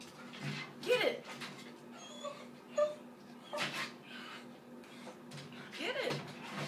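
A dog gives soft, brief whimpers and yips scattered across the stretch while a person keeps talking to it over the top.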